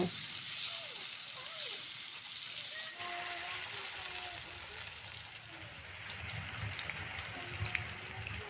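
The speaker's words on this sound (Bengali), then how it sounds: "সবার প্রথম বেগুনটাকে হালকা করে একটু ভেজে নেব" Eggplant pieces frying lightly in hot oil in a kadai, a steady broadband sizzle running throughout, a brief break near the start, with faint scraping and background noise.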